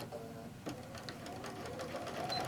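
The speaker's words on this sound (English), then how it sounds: "we're going to sew that last little bit" A sewing machine stitches a pillowcase seam with a quarter-inch allowance, a quiet, fast mechanical whir and rattle that runs steadily for a short stretch, close up with no talking.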